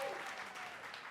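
Steady applause from an audience at an awards event after speeches, a dense wash of clapping that holds at an even level throughout.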